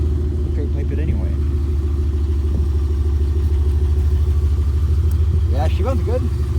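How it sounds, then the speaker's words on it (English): Idling engine of a 2007 Chevy Impala SS with an LS4 V8 and holed, rattling mufflers, a steady low rumble running throughout while people talk over it close by. "they both got holes in it, that's why they rattle"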